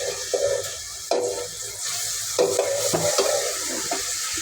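Onions frying in mustard oil in a home kitchen pan, a continuous bright sizzle broken by several sharp clanks and scrapes of a utensil stirring, fairly close, with no talking.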